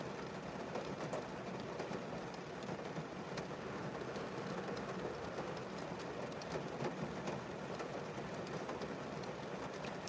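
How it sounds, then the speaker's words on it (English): Heavy rain pours in a dense, steady hiss throughout, loud and unbroken, with no voices over it. "Damn, that rain is crazy."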